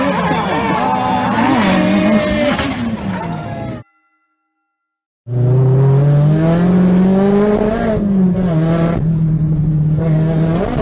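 A V8-swapped Mazda RX-7 drifts with a loud, near engine revving and rising in pitch, tires squealing over it. The sound cuts out briefly, then returns with another sustained high-revving engine and tire squeal.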